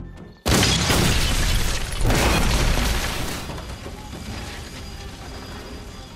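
A factory explosion in a film bursts in suddenly with a loud, broad roar, surges again about a second and a half later, then rumbles and fades away slowly with no voices.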